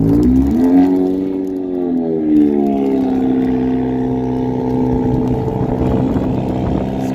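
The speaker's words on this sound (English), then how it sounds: "This car is not prepared for this." A car engine strains and whirs steadily while stuck in heavy snow on Bloor Street in downtown Toronto, a loud continuous drone with rising and falling pitch and no talking.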